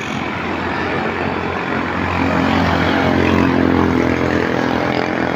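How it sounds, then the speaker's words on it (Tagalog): Propeller airplane landing at an airport, its steady engine drone and rushing air filling the whole stretch, loud and close without pause, no talking. "may palapag naman ito na aeroplano"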